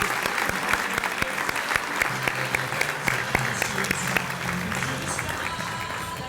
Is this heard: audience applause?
yes